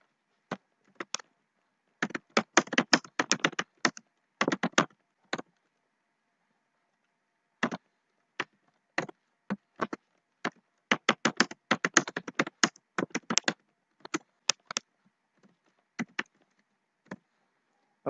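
Typing on a computer keyboard while writing JavaScript code, clear close key clicks in quick irregular bursts separated by short pauses, with no talking.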